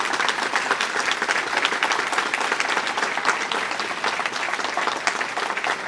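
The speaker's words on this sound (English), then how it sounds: "Please give them a thunderous round of applause." A crowd at a community charity's annual meeting breaks into sustained applause, dense continuous clapping from many hands heard near and steady throughout, with no talk over it.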